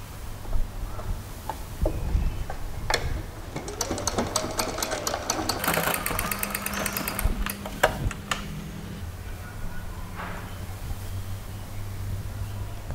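A sewing machine stitching a garment hem runs in a fast mechanical rattle with bursts of rapid needle ticking, close and steady, pausing briefly between runs.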